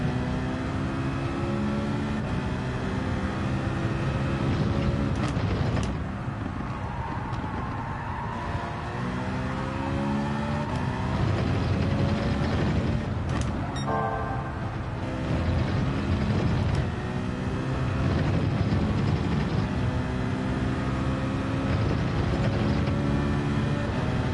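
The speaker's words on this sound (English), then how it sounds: "the newer Porsche sounds way more realistic" A Porsche engine in a driving video game, a steady mechanical drone with rising and falling revs and gear changes, held close and continuous throughout.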